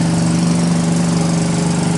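A rescued 1985 Honda ATC 200S three-wheeler ATV engine idles steadily with a loud, even buzzing drone and a constant low hum, running alone without voices.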